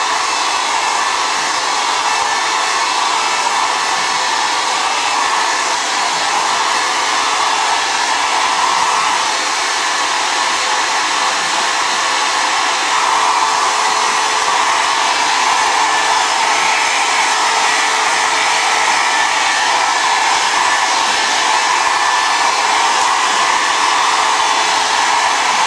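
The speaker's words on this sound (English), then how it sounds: "I always blow dry it away from my face" A hair dryer blowing steadily at close range while hair is dried, a loud continuous whooshing roar with no breaks and no talking.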